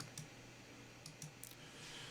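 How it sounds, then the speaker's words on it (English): Computer mouse clicks picked up from behind a SmallRig U60 USB microphone, a few faint, sharp taps spaced irregularly over a quiet room hiss. "Another couple of clicks from behind."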